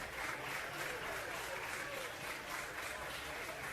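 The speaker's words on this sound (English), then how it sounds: "Crowd getting behind the righty again." Crowd cheering and applauding at a college baseball game, Alabama against Ole Miss, a steady distant roar of stadium noise with a faint announcer voice underneath.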